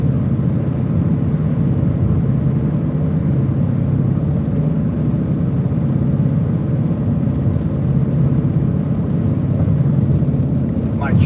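Truck engine running, a loud continuous low rumble and drone that holds steady throughout with no breaks.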